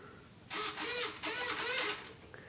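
Small servos whirring on a scratch-built RC aerial video plane as the rudder and other control surfaces are moved, several buzzing bursts in quick succession, close and quiet, no voices.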